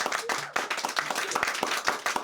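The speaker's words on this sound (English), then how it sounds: "please keep that applause going for your headliner tonight" Audience applause at a comedy show in a small venue, with a brief, dense burst of clapping at a steady level throughout.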